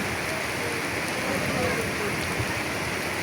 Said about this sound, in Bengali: আপনারা দেখতে পাচ্ছেন বৃষ্টি হচ্ছে